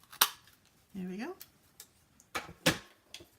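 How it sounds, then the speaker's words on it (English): Paper snips make several sharp, close snipping cuts through card while making a daisy greeting card, with a brief tonal whine between the cuts. "Use the paper snip again."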